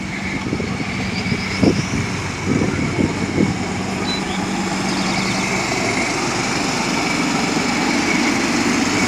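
A coal hauling vehicle at a strip mine gives a steady, moderately distant engine drone with a few short knocks and clanks early on, and no voices.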